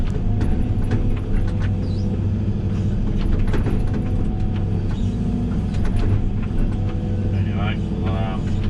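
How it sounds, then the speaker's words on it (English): An excavator's hydraulic hammer breaks up hard ground, giving a loud, dense, continuous pounding and rumble close by with a steady diesel drone underneath. "so you guys don't have to bear the sound of a bloody hammer."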